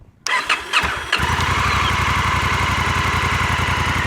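A Honda Africa Twin motorcycle engine cranks briefly, catches and settles into a steady, even idle, close and loud.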